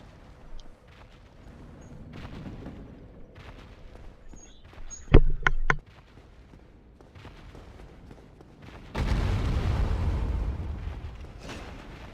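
A heavy thud as the Asylum Demon lands in the Dark Souls video game: one sharp, deep impact, then a loud, sustained low rumbling a few seconds later, with no voices.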